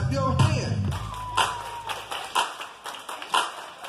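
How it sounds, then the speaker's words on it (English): People join in rhythmic hand claps during a line dance at a hotel event, the sharp claps landing in a regular beat over music, with some crowd noise early on. "Let me hear you clap your hand."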